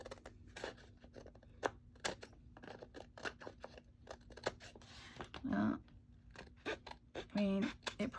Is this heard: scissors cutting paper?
yes